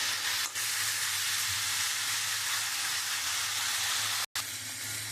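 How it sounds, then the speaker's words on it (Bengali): Spice paste frying in a pan with a little water added, a steady close sizzle and hiss running throughout, with a brief dropout near the end. "আমি এবারে মশলাটা খুব ভালো করে কষিয়ে নেব।"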